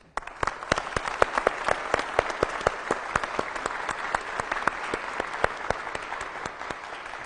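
A studio audience at a Persian TV comedy show bursts into loud, sustained applause, dense clapping that starts abruptly and continues steadily throughout, with no talking over it.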